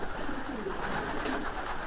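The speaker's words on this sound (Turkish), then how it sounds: "Burası erkek güvercin. Erkekler burada." Male racing pigeons cooing in a loft, a continuous low burbling murmur of many birds close by with no talking.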